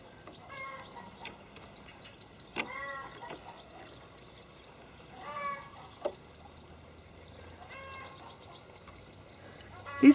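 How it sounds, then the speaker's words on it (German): Chickens cluck intermittently in short clustered bursts, with soft rustling and background noise between calls. "Hier schauen schon die Hühner durch die Löcher durch."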